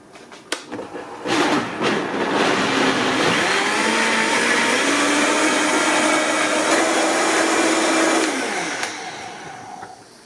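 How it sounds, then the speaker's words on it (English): A blender whirs a liposomal vitamin C mixture in one steady, loud run of several seconds, starting up with a rising whine and winding down at the end, with no talk. "I'm going to blend it one more time for maybe about 2 minutes"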